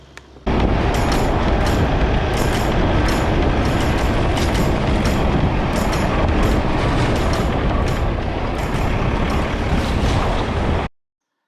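A Force Gurkha 4x4 driven on an off-road trail makes a loud, continuous rumble with rattling jolts and knocks throughout, then cuts off abruptly.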